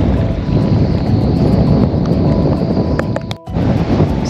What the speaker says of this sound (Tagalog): Medyo mahangin, pero okay lang.